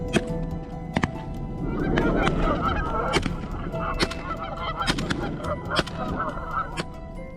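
Wild geese in Texas honk repeatedly, with many overlapping calls from a flock at mid distance and sharp clicks and knocks breaking through now and then, and no talking.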